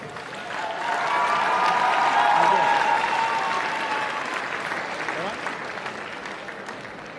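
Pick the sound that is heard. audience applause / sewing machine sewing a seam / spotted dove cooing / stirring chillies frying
audience applause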